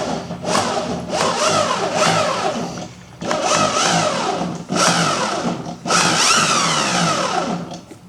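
A 72v electric mini moto's rear drive, fitted with a new belt, spins up on a test run, whirring in several rising and falling bursts separated by short breaks, fairly loud and close.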